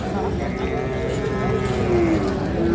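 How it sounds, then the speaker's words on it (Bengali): Cattle low at a livestock market at Ambari haat in Dinajpur, a drawn-out moo rising near the end over a busy background murmur of the crowd. "এখানে বিভিন্ন ধরনের গরু আমরা দেখছি।"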